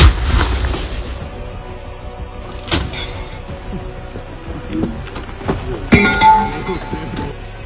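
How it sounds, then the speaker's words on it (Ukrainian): Heavy artillery gun blasts from a Ukrainian National Guard firing position boom out, one sharp report a few seconds in and another louder one near the end, with faint voices and rumble between. "Гармата. Постріл!"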